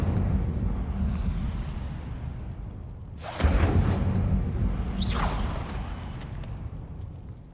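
Incendio fire spell cast in the video game Hogwarts Legacy: a loud whooshing burst of flame erupts partway through, with a second fiery swoosh following over a steady rumbling background.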